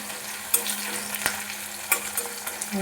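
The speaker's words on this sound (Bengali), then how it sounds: "পেঁয়াজটা আমি হালকা লালচে করে ভেজে নিয়েছি" Onions fry and sizzle in a pan as they are stirred, with a soft, constant crackle broken by brief scrapes and clicks of the spoon. The sound is close and fairly quiet, with no voices.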